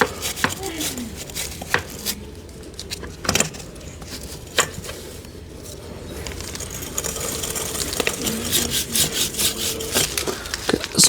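A Royal Enfield CB 350 RS motorcycle chain being scrubbed clean with kerosene, giving close, repeated rough scraping and brushing strokes in an irregular rhythm, with a few sharper knocks, continuing steadily throughout.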